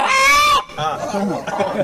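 Chickens cluck and squawk close by at an auction, a loud sustained call followed by shorter clucks, with voices in the background.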